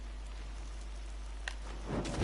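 Steady rainfall in the video game Assassin's Creed Odyssey, a continuous soft hiss of falling drops with a brief brighter patter near the end and no talking.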